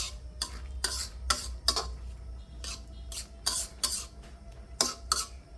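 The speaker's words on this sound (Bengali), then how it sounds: "ডালটা দিয়ে খুব সুন্দর করে নেড়ে চেড়ে মিশিয়ে দিচ্ছি।" Lentil dal with ridge gourd stirred in a pan, a spoon scraping and clinking against the metal in a steady run of about a dozen short strokes, close and fairly quiet over a low background hum.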